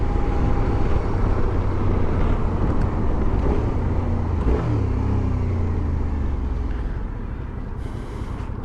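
A 2017 Suzuki V-Strom 650XT motorcycle accelerates hard in a 0-60 mph run, its engine note climbing through rising, shifting tones under heavy wind rush, then easing off near the end.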